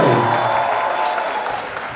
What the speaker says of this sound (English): Can we have a huge round of applause for Mahima and Ayush Rangan?